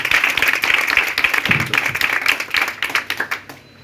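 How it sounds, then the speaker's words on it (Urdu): A church congregation breaks into loud, sustained applause at a healing service, dense clapping filling the space and thinning toward the end. "زوردار تالیوں سے یسوع نام کریں۔"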